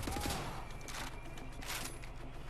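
Hip-fired gunshots in Wolfenstein: The New Order, a quick burst of sharp, clustered shots at the start followed by echoing combat noise and scattered impacts, moderately loud.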